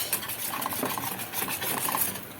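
Homemade country ghee bubbling and frothing in a pan, a steady crackly sizzle with soft scraping, close and moderately loud, no voices.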